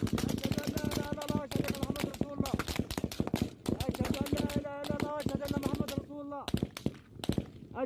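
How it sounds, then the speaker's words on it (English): Gunfire rattles in rapid, sustained automatic bursts with brief pauses, loud and close, with shouting voices mixed in among the shots. "And then there's firing and shit."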